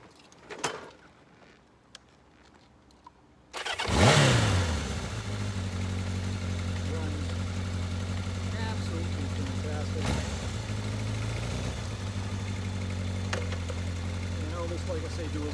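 A 1983 Kawasaki KZ750 Spectre motorcycle starts up with a sudden roar, then holds a steady, fairly close engine note with slight swells. Before it starts there is faint background noise and a few knocks.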